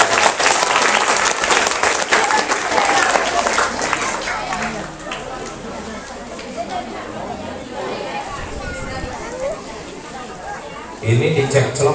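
An audience at an Indonesian elementary school's sixth-grade farewell ceremony claps loudly at first, then the clapping thins into crowd chatter and murmuring before a fresh burst near the end.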